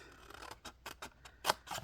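Small scissors snip score lines on Halloween-themed designer series paper, making a series of quiet, crisp cuts at an uneven pace with short pauses between them.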